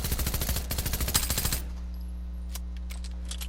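A rapid, loud burst of new machine pistol fire in Fortnite rattles for about a second and a half, then stops, leaving a low game hum and a few faint clicks.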